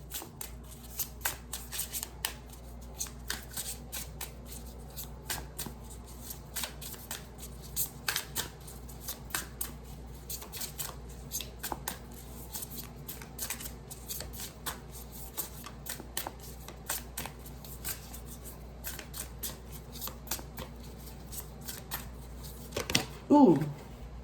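A tarot deck is shuffled over and over with a steady crisp riffle of cards, soft and close, running on for a long stretch in a quiet room.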